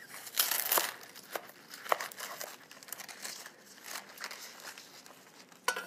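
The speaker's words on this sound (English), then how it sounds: "This is a big head of romaine, so I'll cut about half of this in half lengthwise." A knife cutting a big head of romaine lettuce lengthwise, close crisp crunching and crinkling of leaves in irregular bursts, with a couple of sharper snaps.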